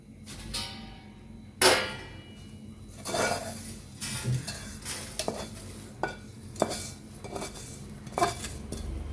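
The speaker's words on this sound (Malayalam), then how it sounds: "ഇനി നമുക്കിത് ഈ പാനിൽ നിന്ന് വേറൊരു പ്ലേറ്റിലോട്ട് മാറ്റാം." Roasted dried shrimp being scraped and shifted from a pan onto a plate in a home kitchen, giving a run of scattered clinks, scrapes and utensil taps, close and moderately loud, with no talking.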